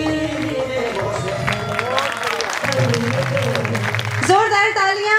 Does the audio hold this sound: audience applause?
yes